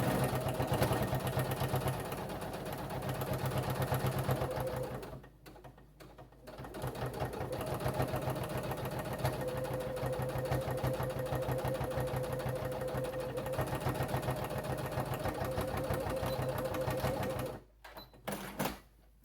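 A sewing machine stitches an elastic-strapped eye mask in a steady, fast whirring run, pausing briefly twice before resuming, with no voices.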